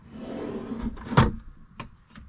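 Wooden dovetailed drawer in an RV cabinet of a Coachmen Nova 20C slides and knocks shut, a soft scraping glide followed by a sharp wooden thud and two lighter taps, close and quiet.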